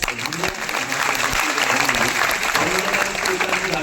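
Applause from an audience at a large coaching-class meet-up event in Prayagraj, dense rapid clapping heard throughout, with a voice speaking over the crowd.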